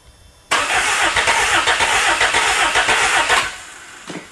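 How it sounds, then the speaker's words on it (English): A Toyota engine with an electric choke is cranked and caught as the throttle is worked, bursting into a loud, rough, close roar that holds for about three seconds before dropping off, followed by a brief sputter. "Alrighty, the big test. I'm just working a throttle."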